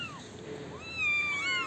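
Small kittens meowing nearby, a couple of thin rising and falling mews with a louder, higher cry toward the end, with no talk over them.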